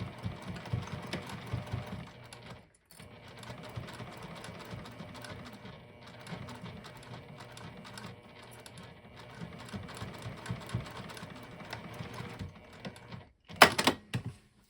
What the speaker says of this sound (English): then we're just going to top stitch across that 1/8 of an inch from the edge